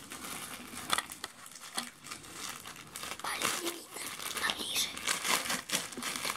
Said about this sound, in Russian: открываем следующую посылку